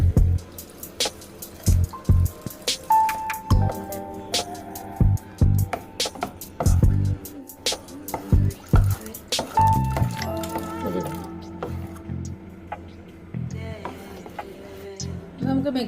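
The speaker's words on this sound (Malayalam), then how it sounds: "കുറച്ച് വെള്ളം ഒഴിക്കാം." Water is poured into neyyappam batter in a bowl, giving close, intermittent splashes, drips and wet squishes in uneven bursts.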